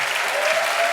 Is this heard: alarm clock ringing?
no